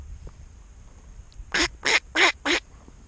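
A mallard duck quacks four times in a quick, evenly spaced series, loud and close, over quiet outdoor background noise on the opening day of a waterfowl hunting season.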